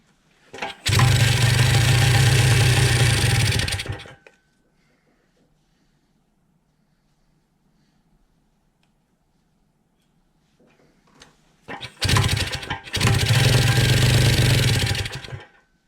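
Two bursts of a 1978 Kawasaki KD175 motorcycle engine running rough with exhaust blowing out, each a few seconds of loud, close, buzzing revving separated by a long near-silent gap, with no talk.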